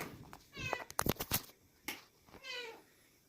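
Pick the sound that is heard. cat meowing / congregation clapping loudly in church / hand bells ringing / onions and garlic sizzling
cat meowing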